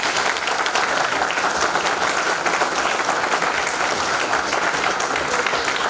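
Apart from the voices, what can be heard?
audience applause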